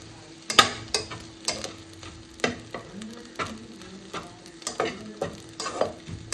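Vegetables and egg stir-fry over a low flame with a gentle sizzle. Repeated utensil taps and scrapes against the pan land every half second or so.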